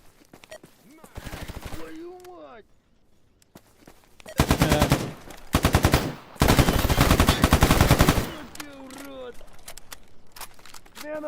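Long rapid bursts of automatic gunfire in the video game Stalker GAMMA, loud and sustained in several volleys, with someone talking between them.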